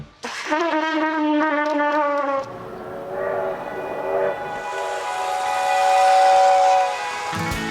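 A train whistle blows loudly for a couple of seconds, followed by tonal horn-like sounds and rising rumbling rail noise.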